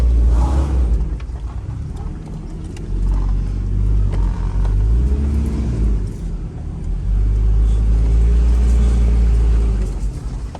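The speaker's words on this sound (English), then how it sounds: "So right now I'm currently driving my truck around my backyard" A truck engine rumbles low and steady as it drives around a backyard, with deep throbbing idle and mild surges of throttle, close to the microphone and without talk.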